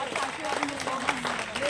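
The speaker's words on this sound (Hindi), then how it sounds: "तालियां तो जोरदार बजनी चाहिए" Audience applause fills a pandal at a gathering at the Asha Dham ashram in Udaipur, honoring its late founder Sister Damien. A steady, dense wash of clapping runs throughout while someone speaks over it.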